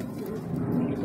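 A racing pigeon just back from the Pagudpud 2 race gives a brief, low, soft coo close by, over faint background noise.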